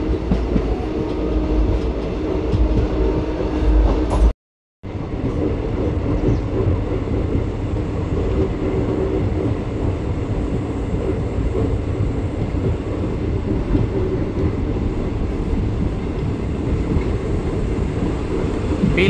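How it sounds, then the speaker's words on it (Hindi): Passenger train 05043 rolls along the track near Mailani, a steady loud rumble with rhythmic wheel clatter continuing throughout, briefly cutting out around the fifth second. "हम लोगों की ट्रेन अब चल रही है"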